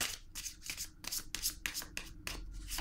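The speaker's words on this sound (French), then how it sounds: "Attendez, je vais piger une autre carte." Tarot cards being shuffled, a run of quick papery riffles and slides in short bursts close to the mic, with a card drawn at the end; no talking.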